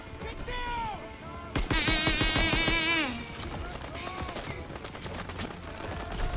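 Rapid gunfire rattles through a video game battle, dense bursts of shots layered with shouting soldiers' voices and whistling, near and loud, easing into scattered distant pops.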